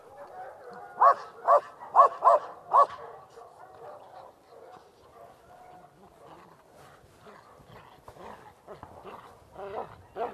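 A female police dog barks during training in a short burst of about five loud, close barks early on, followed by softer yips and whimpers, with people talking throughout.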